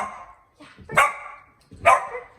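A retriever in training barks on a hand-signal command, giving two sharp, loud barks about a second apart after a softer opening yelp, close to the microphone with no talking.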